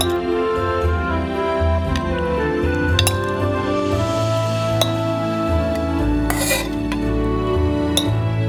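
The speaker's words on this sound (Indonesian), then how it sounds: "Anda bisa masukkan dalam toples." Pickled jalapeno peppers being spooned into glass jars, bright clinks and clatters of metal against glass with scraping and light liquid sloshing, close and fairly loud, no voice.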